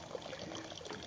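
Rusty water with gritty sediment pours and trickles out of a tank drain, a faint, steady liquid splash heard up close with no talking.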